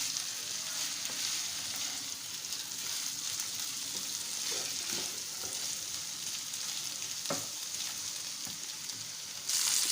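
Chicken and onions deep fry in a pan with a continuous, even sizzle, close and steady, marked by occasional soft stirring knocks and a sharp tap near the end.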